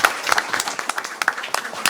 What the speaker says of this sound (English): I just think we should just give everyone a round of applause